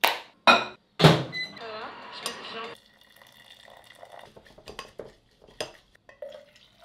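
Dishes and utensils clink and knock sharply a few times while matcha is prepared on a quiet morning, followed by a brief burst of brisk whisking and then scattered soft taps and small clatters.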